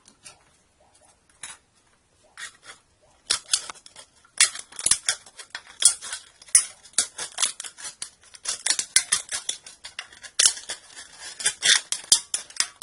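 A soda can is cut up to build a small camping stove, giving a run of crisp metallic snips and crackles that start sparse and grow denser and louder, close by and with no talk.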